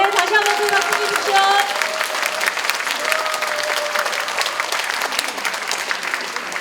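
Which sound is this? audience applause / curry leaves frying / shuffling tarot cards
audience applause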